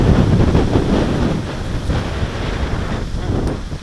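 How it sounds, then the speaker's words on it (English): Strong gusting wind buffets the microphone outdoors at Letchworth State Park, a loud, continuous roar that swells and eases. "It's really windy here today."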